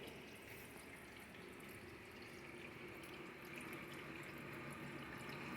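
Steady rushing and trickling water fills a backyard fish pond of about 1,000 gallons stocked with tilapia on an urban homestead, a continuous close wash with no voices.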